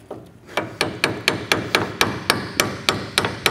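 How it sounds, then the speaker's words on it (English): A hammer strikes the threaded end of a spring eye bolt on a 1977 International Scout II, about a dozen sharp metallic blows in an even rhythm, close and loud. "Here's how you mushroom the end of a bolt so you can't use it again."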